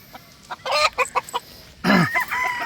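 Gamefowl roosters and brood stags at a farm give nearby clucks in a quick series of short bursts, then one longer, louder crow-like call.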